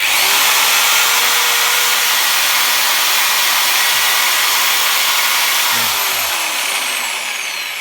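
A loud, steady high-pitched whir of a Screwfix Titan TTB276DRL 850 W percussion drill with rushing air from its cooling fan, running continuously and fading slightly at the end.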